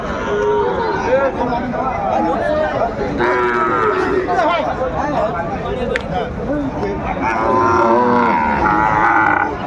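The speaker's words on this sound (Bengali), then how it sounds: "শাহিওয়ালের ষাঁড় বাচ্চা" A Sahiwal bull calf moos repeatedly at a crowded cattle market, several drawn-out calls with a grunt or two, heard up close amid steady talking and crowd noise.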